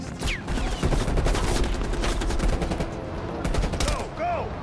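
Rapid gunfire from Call of Duty: Black Ops Cold War, loud and sustained automatic bursts crackling throughout with short gaps, dense and close, with faint game voices underneath.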